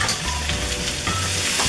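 Spiced potatoes and capsicum being stirred and mixed in a pan, a loud close sizzle with scraping utensil strokes throughout the short moment.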